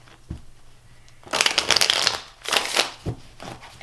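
Tarot cards are shuffled in two quick riffling bursts, crisp and close, with a few soft taps between.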